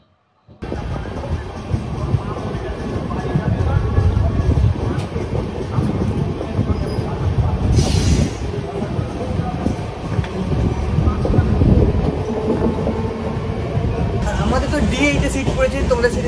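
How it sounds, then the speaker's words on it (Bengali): 12857 Tamralipta Express leaving platform 4 at Mecheda station bound for Digha, a continuous rumble and rattle of the moving train heard from inside a coach, with a brief hiss partway through. "আর 2 মিনিট দাঁড়িয়ে কিন্তু আমরা ট্রেন ছেড়ে দিল দীঘা যাওয়ার উদ্দেশ্যে মেছেদা স্টেশনের 4 নম্বর প্ল্যাটফর্ম থেকে"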